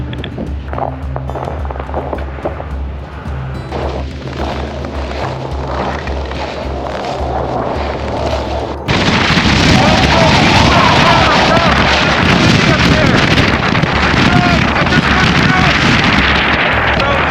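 Strong subzero wind at an outdoor overlook buffets the microphone in a steady roar that grows louder and harsher partway through, with a voice faintly underneath early on.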